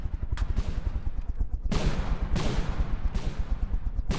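Missile strikes slam into an airship in the vehicle combat game From the Depths, a rapid crackle of small hits building into three long, loud explosive bursts of roaring blast noise.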